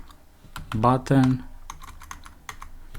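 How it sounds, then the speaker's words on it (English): Typing code on a computer keyboard, with sharp key clicks scattered across the clip around a short burst of nearby speech. "I'll type print button dot display button"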